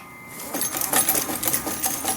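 A treadle-driven sewing machine runs steadily, its rapid needle clatter close and fairly loud with a slight rhythmic pulse from the pedal, no voices over it.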